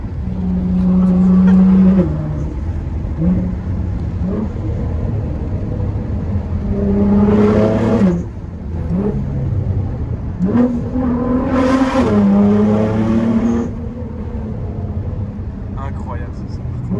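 A Nissan GT-R engine rumbles loudly and steadily, with several rising revs and throttle blips that swell and fall back across the stretch, heard from close by with some talk mixed in.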